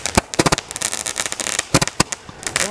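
Backyard fireworks go off in a rapid string of sharp cracks and pops, loud and close, with irregular bursts and crackling between the louder bangs.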